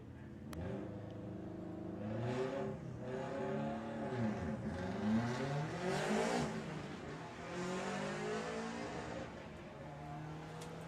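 Volkswagen drag race cars at Santa Pod's Bug Jam run with a continuous engine roar that rises and falls, overlapping revving pitches heard from a distance across the track, with no talk.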